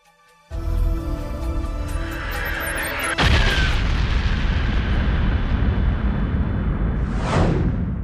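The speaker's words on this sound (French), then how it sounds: "Cette explosion émana d'un seul point il y a quelques 15 milliards d'années, à partir du néant." A loud, sustained explosion rumbles for several seconds after a sharp onset, with a second blast partway through and a rising whoosh near the end, standing alone as a dramatic effect representing the Big Bang.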